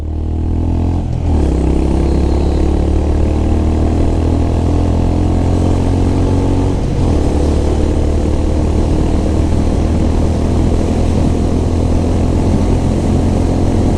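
A Honda CB350RS motorcycle accelerates in fourth gear toward 120, its engine droning loud and steady with a rising pitch that falls briefly at two points before climbing again.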